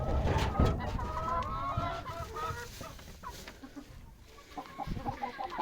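Chickens and a rooster cluck and squawk in a barnyard, a busy overlapping chorus of short calls that is loudest at the start, thins out in the middle and picks up again near the end.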